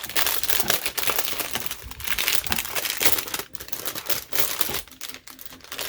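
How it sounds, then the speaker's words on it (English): A plastic bag crinkles and rustles as a newly boxed product is pulled out and unwrapped, giving close, busy crackling bursts that continue for several seconds with short pauses between them. "it is in a plastic bag, so we have to open this up."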